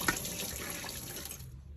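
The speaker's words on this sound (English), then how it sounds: "Pour some cold filtered water over them to stop the cooking." Cold filtered water from a kitchen tap runs steadily over drained cooked potatoes in a sink, a continuous close splashing flow that cuts off near the end.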